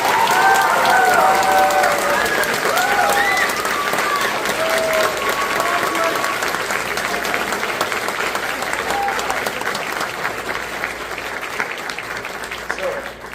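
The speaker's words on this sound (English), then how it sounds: "Please give them a round of applause." Audience at a spring band concert applauding graduating band seniors, with sustained, loud clapping from a crowd that slowly tapers off, mixed with a few voices and whistles.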